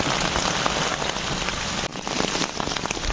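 Heavy rain pours steadily through a dry dipterocarp (teng) forest, a dense, continuous hiss of drops drumming on leaves and ground. It stays loud and unbroken throughout, with no voices.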